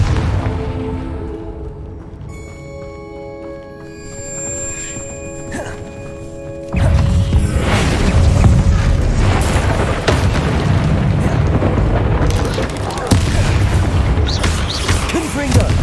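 Confringo blasting spell in the video game Hogwarts Legacy: a tonal magical hum gives way to a sudden loud explosive boom, followed by sustained rumbling blasts and crackling debris.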